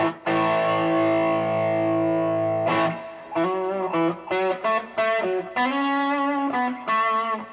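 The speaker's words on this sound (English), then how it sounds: "That's a plate reverb." Boss Katana 100 guitar amp on a crunch setting with plate reverb: a long chord rings out for over two seconds, then a run of picked notes and short chords, each leaving a shimmering reverb tail, with no talking.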